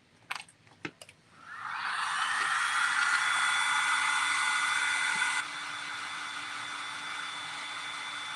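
A hair dryer blows steadily on thrifted items, starting after a few brief knocks and handling sounds, then running loud and continuous before dropping to a slightly quieter, lower setting for the rest.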